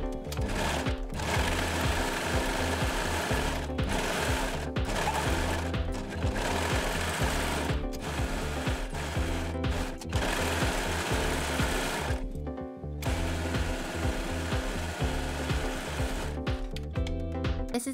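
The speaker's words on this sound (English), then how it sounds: "we're going to overlock from that little notch towards the side seam and the short end of the facing" An overlocker serges knit fabric from a small notch toward the side seam and short end of a facing on a bell-sleeve crop top, a fast, steady, close mechanical whir that runs almost unbroken, with a few brief pauses.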